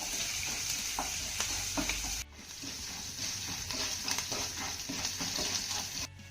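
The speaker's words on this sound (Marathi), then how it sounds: "आता ही फोडणी आपल्याला चांगली परतून घ्यायची आहे" A loud, steady sizzle of tempering with asafoetida in hot oil fills the pan, with crackling pops and a brief break partway through.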